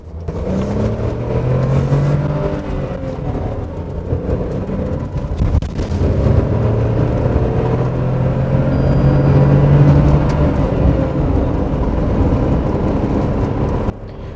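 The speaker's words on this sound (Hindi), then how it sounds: "देखो जितना भी रेड लाइन करना था मैंने कर लिया" A 2020 Tata Nexon, base variant, revved hard toward the redline while driving: a loud, sustained engine drone whose pitch climbs and falls in long sweeps, with no voices over it.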